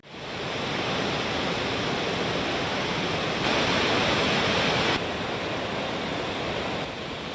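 Heavy water rushes through the opened gates of the Lower Maner Dam in Karimnagar, producing a loud, steady broadband roar that continues unbroken throughout and swells briefly in the middle.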